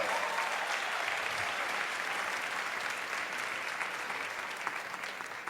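Church congregation applauding during a sermon, a broad, continuous roar of clapping from a sizable crowd, fairly distant and fading slightly toward the end.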